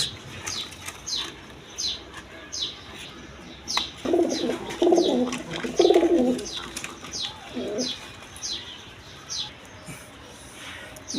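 Pigeons at a pigeon farm give a few soft, throaty coos in the middle stretch, with brief wing flaps and faint chirps scattered throughout against a quiet background.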